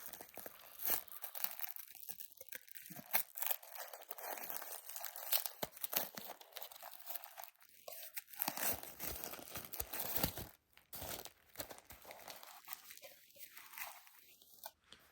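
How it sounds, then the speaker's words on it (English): Sticker peeled off and paper unwrapped from a Dior box holding a men's credit card holder: close, crisp crinkling, tearing and rustling in bursts, with short quiet gaps between handling sounds. "Let's take this sticker off."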